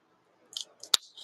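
A cutter snips the end of an Anejo Shark cigar, making several quick close crisp snips and one sharp click, isolated in a quiet room.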